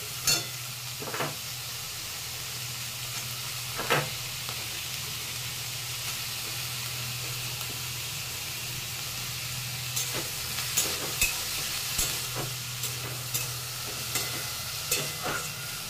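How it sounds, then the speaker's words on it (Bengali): Chopped vegetables and small diced potatoes fry in a pan for oats khichuri, sizzling in a steady close hiss while a utensil stirs and scrapes now and then. "দেখতে পাচ্ছেন আমরা সবজিটাকে ভেজে নিচ্ছি"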